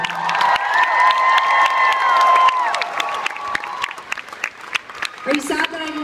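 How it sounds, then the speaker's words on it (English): A concert audience at a show in San Diego applauds and cheers loudly, with sustained whoops and shouts over dense clapping that thins toward the end while voices talk nearby. "So a huge round of applause for our very young and sprightly John Spencer"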